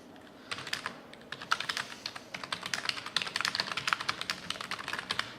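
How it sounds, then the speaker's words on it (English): Rapid, steady typing on a Microsoft Surface RT type cover keyboard, crisp clicking keystrokes close up, starting after a brief pause and continuing throughout without any talking. "typing as you would do on your favourite keyboard."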